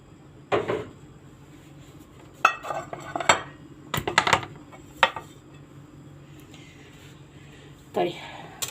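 A metal baking tray is fetched and handled in a home kitchen before fish and vegetables go in, giving several sharp clanks and scrapes at irregular intervals between pauses, close by, while someone talks.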